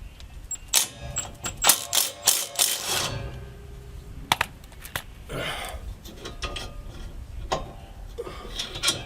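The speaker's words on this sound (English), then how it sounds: "we are going to remove our two 17mm bolts" Rapid ratchet clicking from a wrench backing out 17mm brake caliper bracket bolts on a 2016 Toyota Corolla, loud bursts of ratcheting followed by scattered metal clinks and handling noises, close up.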